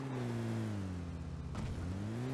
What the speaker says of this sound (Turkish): araba araba. Araba Watch out. araba araba.